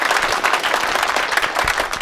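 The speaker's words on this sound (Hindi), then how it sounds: "ताली बजाओ" An audience claps after being asked to, a dense, steady wash of applause from a crowd holding at even loudness throughout.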